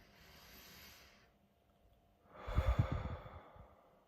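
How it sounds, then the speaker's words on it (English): A soft, slow breath out, audible as a brief airy exhalation after a quiet pause, close to the microphone and with no talking. "breathing out"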